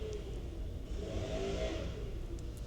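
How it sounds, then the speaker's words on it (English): A lawnmower runs outside during yard work, giving a steady, muffled engine drone. It holds an even level throughout and sounds somewhat distant, as if heard from indoors, with no talking. "If y'all can hear the lawnmower going outside"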